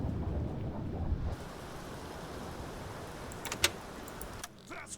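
Stormy weather in the UBOAT submarine game, with a steady rush of rain and wind noise and a heavier low rumble at first, then a few sharp brief crackles near the end.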